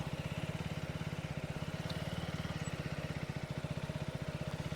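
A motorcycle engine chugs with an even, rapid pulse close by as the bike turns freestyle zero circles on back brake with the handlebar locked left, its note steady and unbroken throughout with no talk.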